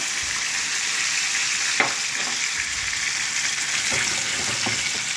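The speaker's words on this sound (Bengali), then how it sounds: "পনিরটা একটু ভেজে নিচ্ছি লাল করে।" Paneer cubes frying in hot oil in a large pan, a steady close sizzle throughout with a few light scraping stir sounds, no talking.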